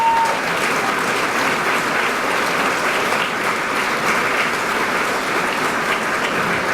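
Sustained applause from an audience at an evening business awards gala, steady and dense for several seconds as the event committee is recognized.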